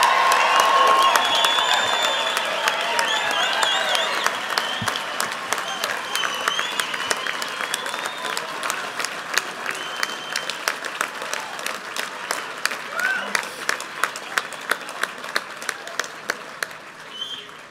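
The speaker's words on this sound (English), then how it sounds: "Let's give them a big round of applause." Big sustained round of applause with scattered cheers and whistles for graduating students at a Colorado State University College of Agricultural Sciences fall commencement, loud and dense at first, then thinning into sparser individual claps toward the end.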